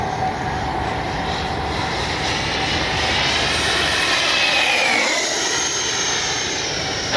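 An FMS Avanti V3 70mm RC jet with a KM Models afterburner flies overhead, producing a loud, continuous whooshing whine that shifts slowly in pitch as it passes, with steady outdoor rumble beneath.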